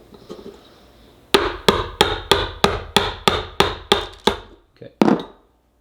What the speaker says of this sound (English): And where's my hammer?